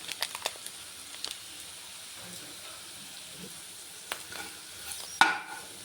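Maggi masala is stirred in a hot pan on the stove, with soft scraping strokes over a faint sizzle and a sharp clink of utensil against pan near the end.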